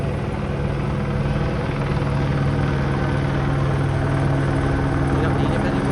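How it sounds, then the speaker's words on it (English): A police drone flies over a residential street, giving a loud, steady rotor drone with a strong low hum that holds constant throughout. A helicopter may also be overhead. "It's a drone."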